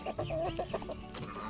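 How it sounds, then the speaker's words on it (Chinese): Free-range barred Luhua hens clucking in a navel orange orchard, several birds making close, rapid, overlapping clucks in a steady run. "三只公鸡，还有二十五只可以下蛋的鸡。"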